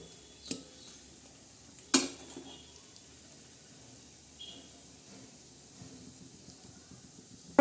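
Grated coconut roasting in a dry pan, with faint soft sizzling, occasional spoon clinks and a couple of sharp knocks against the pan, no voices.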